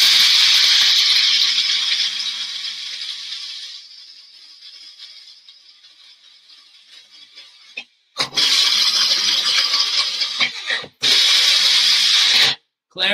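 Coffee beans in an electric grinder, a loud, high whirring grind that fades down, then returns in short bursts broken by abrupt stops.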